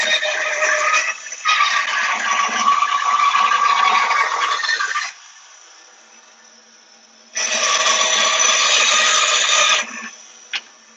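A bandsaw cutting wood makes two loud, sustained buzzing passes, each several seconds long, separated by a quieter gap where the blade runs free, ending with a brief click.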